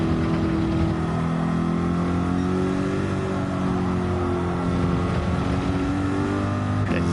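A Corvette race car engine in a racing video game at Suzuka drones loudly and continuously, holding a steady high rev with slight pitch shifts, no voices over it.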